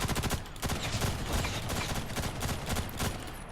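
Rapid bursts of gunfire from Ghost in the Shell: First Assault, close and loud, a dense crackling volley that runs almost unbroken with brief dips between bursts.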